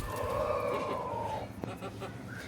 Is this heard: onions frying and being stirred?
no